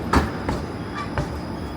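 A Toronto 504 King streetcar passing on King Street West downtown, with a rumble of wheels and a few sharp rail clanks or squeals amid city noise, no speech.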